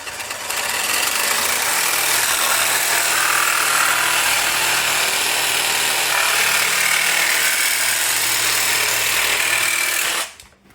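A loud power tool cuts a part for a subwoofer box for a 2023 Toyota GR Corolla, giving a steady, harsh whine and rasp for about ten seconds before it cuts off abruptly.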